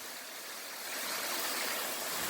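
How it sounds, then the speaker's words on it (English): A small waterfall along a walking path gives a steady, broad rushing hiss of falling water that swells slightly louder partway through, with no other sounds. "Little waterfall right there."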